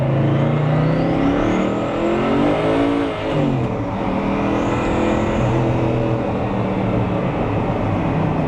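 A Mosler with a twin-turbo LS7 engine roars loudly and continuously as it accelerates, its engine note sweeping up, dipping briefly around a shift, then climbing again, heard close and alone without talk.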